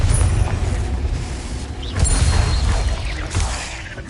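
A Confringo blasting spell in Hogwarts Legacy goes off as a heavy, rumbling game explosion, a loud sustained boom with crashing debris and whooshing swells that surge again midway, with no voices.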